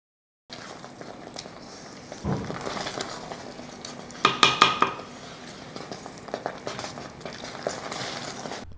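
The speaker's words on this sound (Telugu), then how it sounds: "మెంతులు, ఆవాలు పొడి చేసుకున్నాం కదా, ఆ పొడిని వేసుకొని కలుపుకోవాలి." Ground fenugreek and mustard powder stirred into a red chilli tomato chutney in a pan, heard as close spoon clinks and scrapes against metal with a faint simmer beneath.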